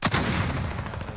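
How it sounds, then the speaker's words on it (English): Single sharp sniper rifle shot in the Warzone video game, a loud close crack followed by a rolling echo that fades over about a second. "I sniped him."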